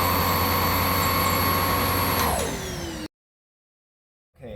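A TriStar MG1 canister vacuum cleaner runs with a loud, steady whine and a constant tone. The pitch falls as the motor spins down, then there is silence, and a faint sound returns at the very end.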